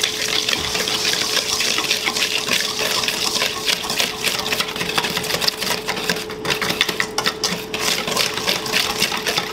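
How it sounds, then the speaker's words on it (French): Yogurt cake batter with whole cane sugar is whisked vigorously in a bowl, a loud, continuous whirring and rapid rhythmic beating that carries on without a break. "Je fouette bien."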